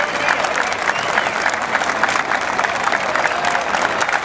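Steady, dense applause from an audience after a Latin jazz band performance, continuous clapping with a few faint cheers mixed in throughout.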